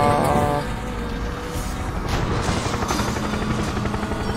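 A helicopter in the racing game Need for Speed The Run gives a loud, continuous rotor thrum and roar that fills the scene, with a brief louder burst at the start and no talking.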